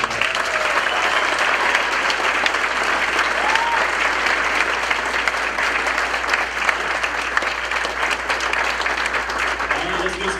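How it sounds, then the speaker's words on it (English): An audience claps steadily at a jazz café event honoring middle school students who earned Louis Armstrong Jazz Awards, a dense, even round of applause running throughout at full volume. "So let's give them a round of applause."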